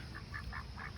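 Ducks quacking in a quick series of four short, nasal calls, faint against a steady background hiss.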